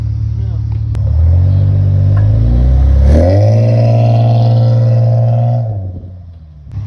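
A Honda Accord engine revs hard during a burnout attempt, a loud, steady roar that climbs in pitch midway, holds, then drops off near the end, close to the listener with voices over it.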